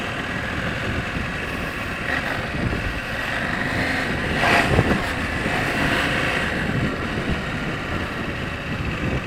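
A KTM 790 Adventure R motorcycle rides around the block, its engine a steady broadband drone with wind rush across the microphone and a brief louder surge midway, without speech.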